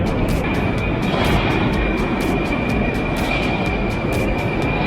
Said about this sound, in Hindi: और मेट्रो आ रही है।